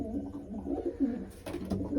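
Pigeons coo close by in a loft, low throaty calls overlapping in a steady murmur, with a burst of scuffling and flapping partway through as birds squabble.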